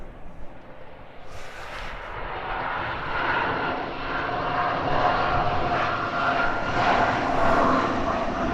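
An Aer Lingus ATR 72-600 turboprop bound for Belfast drones steadily at an airport, its propeller roar building and holding loud and near, with no talk over it.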